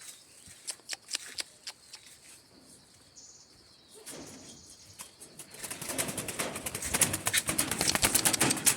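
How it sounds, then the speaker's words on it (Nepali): A dove flapping its wings in an open area, a series of quick close fluttering bursts that grow louder and denser toward the end, with faint chirps in between and no speech. "ढुकुर यार"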